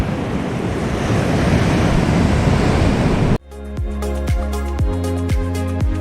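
Pacific Ocean waves on a beach with pine trees running down to the sand, a loud steady roar of surf and wind. After a sharp cut, a run of regular rhythmic thumps takes over, and no one speaks.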